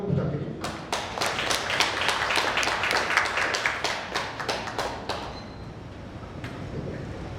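An audience claps for a candidate introduced at a board election meeting, dense sustained applause of many hands with scattered sharper claps, fading toward the end.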